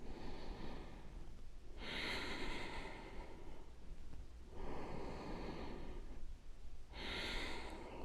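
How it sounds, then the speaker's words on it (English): Slow, deep breaths taken during a bone-density exercise routine, three long airy exhalations spaced a few seconds apart, soft and close. "3 more deep breaths"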